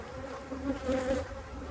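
Carniolan honey bees hum steadily on a hive frame, a close, even buzzing drone with no talk over it.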